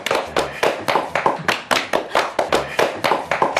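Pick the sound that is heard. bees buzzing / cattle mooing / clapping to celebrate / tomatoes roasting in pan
clapping to celebrate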